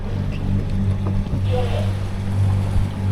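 A sailboat motoring under engine power at about 4.5 knots sets up a steady low engine drone, with wind and water noise over it and a faint voice briefly in the background.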